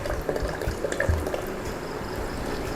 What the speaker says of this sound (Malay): nak tambahkan air lagi sebab kuah ni masih pekat lagi